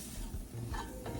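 A spoon stirs flour into a macaroni pie mixture, giving a steady close scraping and swishing with soft sizzle-like texture and no voices.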